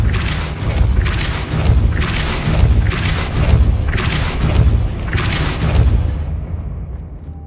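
A Depulso force spell cast in Hogwarts Legacy: a loud run of heavy, booming bursts about a second apart that blend into a continuous rumble and then fade out at the end.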